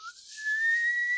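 A voice whistles one steady, rising high note in imitation of a kettle coming to the boil. It is close and clear and heard alone.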